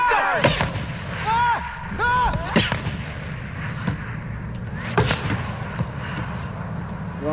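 Gunfire in the 2013 Tomb Raider video game cracks out in sharp, loud shots scattered over the clip, mixed with game sound effects and talk.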